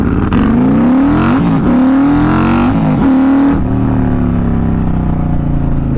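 A built Harley-Davidson CVO motorcycle launches hard from a standstill, its engine note climbing loud and close through a couple of gear changes, then settling into a steady drone as it pulls away.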